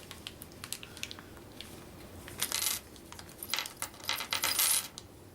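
Small metal Clue board game weapon pieces, including a candlestick, revolver, wrench, knife and lead pipe, clink and rattle together in a bag at close range, with quiet scattered taps building to a few louder jingling bursts.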